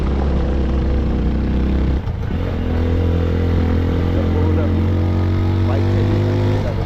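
A motorbike ridden on a snowy mountain road from Lachung to Zero Point, its engine droning steadily and loudly up close with rattling and wind, one brief dip partway through.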